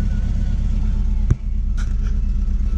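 Go-kart built from a 2003 Ford Focus engine pulls forward with a steady loud low rumble throughout, broken briefly by a sharp knock midway.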